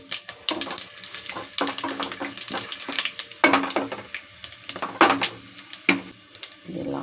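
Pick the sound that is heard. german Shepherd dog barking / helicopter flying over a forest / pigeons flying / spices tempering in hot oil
spices tempering in hot oil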